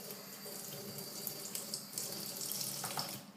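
Water running from a tap into a sink while shaving-foam slime is being made, a steady faint hiss and splash lasting a few seconds, alone without talk.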